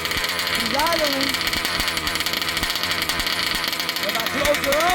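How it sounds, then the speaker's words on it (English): An ALX 71cc small engine idles with a steady, buzzy, even drone, held at a constant level throughout with no revving. "Alright, so it's idling now."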